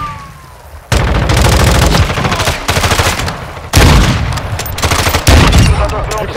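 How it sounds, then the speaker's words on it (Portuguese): Call of Duty: Modern Warfare II multiplayer firefight, loud rapid automatic gunfire in long dense bursts with brief gaps, close and dominant. "Estão atirando em mim."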